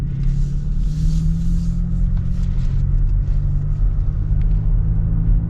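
A 2022 Toyota Tacoma TRD Pro pickup engine hums with a steady low rumble while circling a roundabout, heard as a constant near drone from inside the cab.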